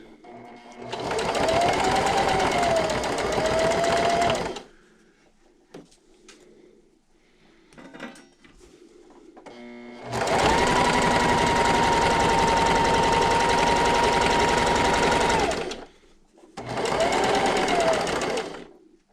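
Loud, close sewing machine back stitching along a napkin edge in three sustained runs with a faint whine, separated by quiet pauses with light handling.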